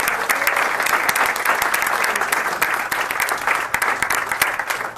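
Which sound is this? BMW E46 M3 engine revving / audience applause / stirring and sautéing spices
audience applause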